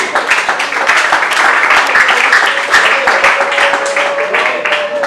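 A hall audience claps steadily and cheers for a wrestling coach at an association's open day, loud continuous applause with voices mixed in throughout.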